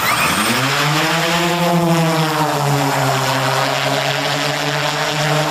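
A military drone used by a Ukrainian mechanized brigade near Bakhmut lifts off vertically, its propellers giving a loud, close whine that climbs in pitch as it spools up and then holds steady, with no talking.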